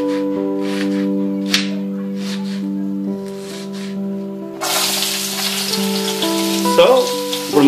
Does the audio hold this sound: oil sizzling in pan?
yes